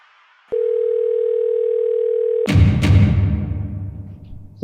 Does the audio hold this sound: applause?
no